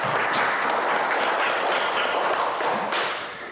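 Classroom applause for a student group after their presentation, a dense, steady wash of many hands clapping that holds evenly throughout and tapers slightly at the end.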